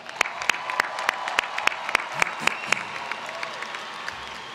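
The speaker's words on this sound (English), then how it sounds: "let's give yourselves a round of applause." Scattered, sparse claps ring out from graduates at a Sam Houston State University summer 2018 commencement ceremony: distinct individual hand claps in an irregular rhythm, fairly faint in a large hall.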